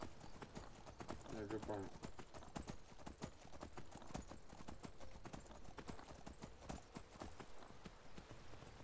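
Horse hooves clip-clop steadily in Skyrim VR, a rhythmic clatter of footfalls running through the whole stretch under frequent male conversation.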